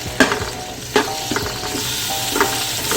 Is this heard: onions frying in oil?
yes